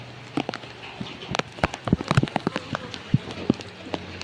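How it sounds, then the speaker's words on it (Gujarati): Heavy rain falls in Jamnagar and patters close by as uneven, crackling drops strike a nearby surface. The hits come irregularly and grow denser in the middle. "વરસાદ હજી એવો ને એવો ચાલુ છે"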